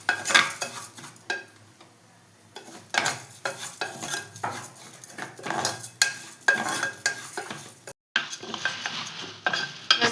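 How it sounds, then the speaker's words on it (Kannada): Moong dal roasting in oil as a utensil stirs it round a pan, repeated close scraping strokes with a soft sizzle underneath, irregular and brisk, with one brief gap. "ಹೆಸರುಬೇಳೆನ ಕಂದುಕೊಂಡ ಬರೋವರೆಗೂ ಹುರ್ಕೊಳ್ಳೋಣ."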